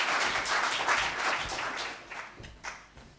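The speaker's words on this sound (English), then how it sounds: "Please welcome him up with a round of applause." Conference audience applause for a speaker coming to the stage, a soft, diffuse wash of clapping heard from a distance that fades out over a few seconds.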